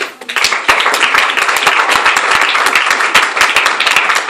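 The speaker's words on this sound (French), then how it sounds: "Acclamons la parole de Dieu." A church congregation at a Sunday service applauding, dense rapid clapping from many hands that swells quickly and stays loud and steady, close, with no talk over it.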